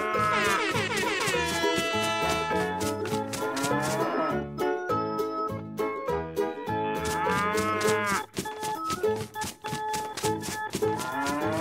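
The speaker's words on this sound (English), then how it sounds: "Cow." A cow moos loudly in a series of long, drawn-out lowing calls that repeat across the clip, with no talk.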